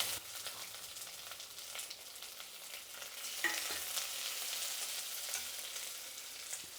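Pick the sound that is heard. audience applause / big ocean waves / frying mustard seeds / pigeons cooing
frying mustard seeds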